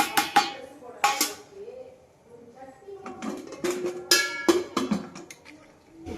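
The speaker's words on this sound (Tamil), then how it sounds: "உப்பை போட்டு ஒரு கிண்டி விட்டுட்டு சோறு நல்லா கொதிக்கட்டும்" A metal spoon clinking and scraping against a pot while salt is stirred into rice cooking in water, several sharp close clanks and rattles, with a person talking in between.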